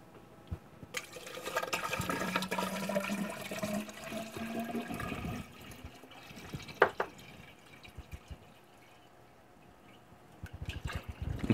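Coolant poured into a PC water cooling loop fitted with an AMD Fury X water block. A steady stream of liquid splashes and gurgles into the reservoir, then gives way to scattered drips and trickles.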